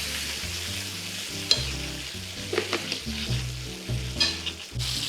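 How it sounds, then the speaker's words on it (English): Steak searing in a pan on an induction heater, basted with a tablespoon: steady close sizzle with scraping, clinking spoon strokes and a few sharper clatters, no voices. "we're gonna use this tablespoon to baste our steak."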